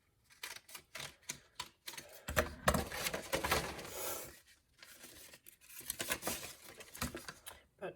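Scissors snip through paper petals for a paper rose in a run of short, close cuts, with a longer crinkly burst of paper rustling in the middle before the quick snipping resumes.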